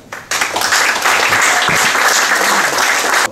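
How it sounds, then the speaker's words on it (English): Audience applause at a talk on systems thinking with team topologies and context maps, a dense, loud wash of many hands that starts abruptly, holds steady for about three seconds, then cuts off. "let's give an applause to Michael"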